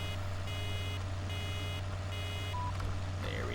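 Electronic reversing beeps from a farm vehicle in Farming Simulator 2013 repeat in a steady on-off rhythm over a low engine hum, fairly clear and regular.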